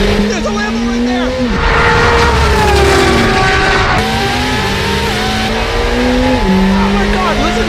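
Lamborghini supercar racing alongside other 1,000-horsepower supercars, its engine loud and close with rising and falling pitch as it shifts gears, tire noise underneath, while people talk excitedly over it.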